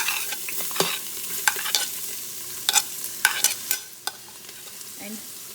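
Onions frying with cinnamon stick, cloves, peppercorns and dry and green chili give off a soft sizzle, broken by repeated sharp scrapes and clacks of a spoon stirring the pot.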